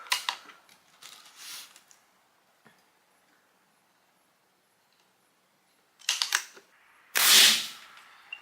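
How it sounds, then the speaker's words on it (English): Three sharp, snappy shots from a Pinty .22 caliber PCP air rifle, two in quick bursts near the start and a louder, fuller crack toward the end, with quiet pauses between. "let's just get some shots downrange and see the consistency"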